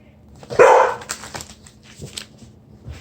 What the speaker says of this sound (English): Sorry about that. It's my doggo.